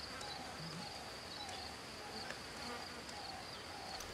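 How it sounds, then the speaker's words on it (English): Bees buzz in the Nintendo 64 game Donkey Kong 64, a faint steady insect hum with a thin high whine and soft chirping ambience, quiet and continuous. "That's bees. Ah, bees."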